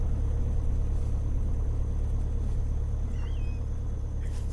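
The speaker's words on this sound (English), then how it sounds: "It's a fucking plane, dude!" A steady low engine drone rumbles continuously from a plane passing overhead at a distance in the video game Unturned, with no voices.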